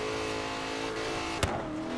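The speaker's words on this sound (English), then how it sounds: "I enjoy the exhaust pops" Car in Forza Horizon 3 driving in Denmark, a steady engine drone broken by one sharp, loud exhaust pop near the end, followed by the engine note continuing.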